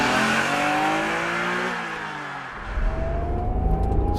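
A stock 1991 Acura NSX with a 3-liter engine and 5-speed revs up and down in rising and falling sweeps, then drops into a rougher, louder idle rumble close by.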